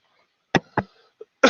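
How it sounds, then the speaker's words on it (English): Several short, sharp coughs in quick succession, close and fairly loud, with a brief pause before a final, harsher burst. "stupid cough today"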